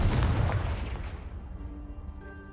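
A Confringo fire spell blast in Hogwarts Legacy, a single loud booming explosion that rumbles and decays over a couple of seconds, leaving a faint tonal ring.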